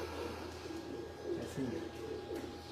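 Pigeons on a rooftop in Lahore coo in soft, repeated low calls, several overlapping bursts against a steady background hum, with faint voices nearby.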